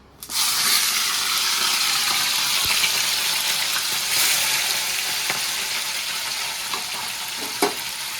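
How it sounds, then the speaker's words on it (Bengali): Steady, loud sizzling of small Ganges mourala fish frying crisp in hot oil, a continuous hiss with a few faint clinks and stirs. "আগে অল্প অল্প মাছ দিয়ে এটা ভেজে নেবো একদম কড়া করে"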